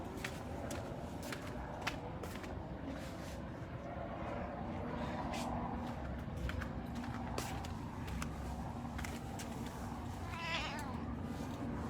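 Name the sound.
cat meowing, a former feral cat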